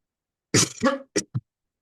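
A single close, sharp cough followed by two short throat-clearing coughs, then silence.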